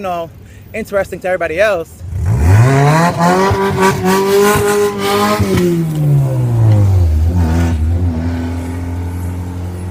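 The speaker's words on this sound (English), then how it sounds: "What you just heard was a car rev the engine." A car with a missing bumper revs its engine loudly nearby, pitch climbing then falling back to a rumbling idle, with someone talking briefly at the start.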